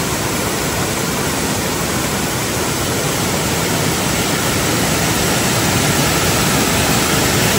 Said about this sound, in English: Looking down on Ganaga Glen, Ganaga Falls.